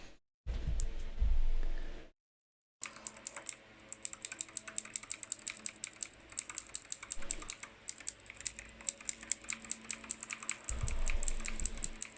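Computer keyboard keys being pressed while working in the BIOS of an MSI B350 Tomahawk PC: a few seconds of rumble and a short silence, then a long run of quick, close, crisp clicks at an uneven typing pace.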